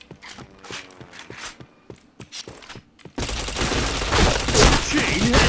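Gunfire in the video game Point Blank: a rapid series of sharp shots, then a denser, louder burst of continuous firing and explosive noise.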